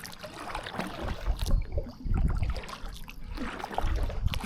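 Kayak paddling on a freshly filled farm pond, with soft watery splashes and trickles from the paddle strokes repeating at an irregular pace, close to the microphone and with no talking.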